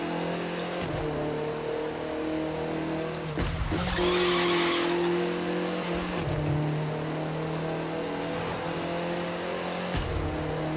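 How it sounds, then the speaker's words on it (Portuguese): Audi TT RS tires squealing in a burnout in The Crew 2, a loud sustained screech over a steady engine drone, with sharp bursts of skidding recurring across the stretch and no talk. "Isso aí, queimando o pneu, vambora."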